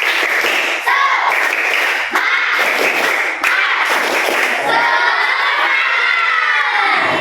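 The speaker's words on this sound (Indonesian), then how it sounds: "Ayo, tepuk semangat." Schoolchildren in an Indonesian classroom clap together in a rhythmic class cheer and shout energetically, a loud, dense burst of young voices and hand claps filling the room throughout.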